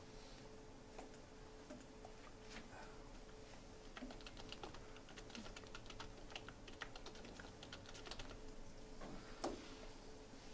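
Quiet keystrokes on a computer keyboard tick in an irregular, steady run of light clicks, faint and close, with no talk over them.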